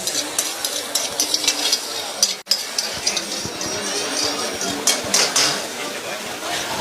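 Mustard seeds hit a hot pan for a soya meat dish, giving a crackling sizzle with scattered pops and clinks of a utensil, while someone narrates in Tamil over it.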